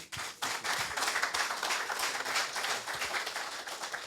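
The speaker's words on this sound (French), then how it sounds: "On l'applaudit quand même." Audience applause at a 2019 football awards ceremony, a dense steady patter of many hands clapping from start to finish at moderate loudness, with no speech over it.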